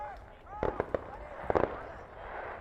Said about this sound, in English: Fireworks continue off in the distance.